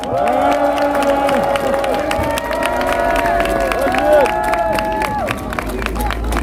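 At a street campaign rally by Dongmyo market in Jongno, a crowd claps and cheers for a candidate while loud, wavering music or amplified tones run over the dense clapping and babble.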